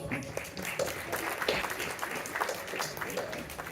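Steady applause from a theatre audience, a continuous dense patter of clapping that holds at an even level throughout.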